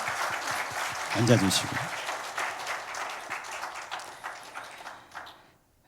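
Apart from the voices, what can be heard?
congregation applause for teachers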